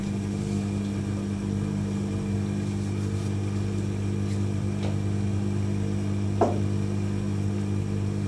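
An AEG Öko-Lavamat 88840 washing machine runs its intermediate spin, giving a steady, loud motor hum with a constant tone. One brief squeak cuts through near the end, and no one speaks.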